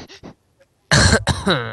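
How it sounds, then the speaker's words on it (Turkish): Short coughs from a person, two quick faint bursts followed by a louder, close throaty cough and clearing sound, with a brief pause between. "Öksürdün."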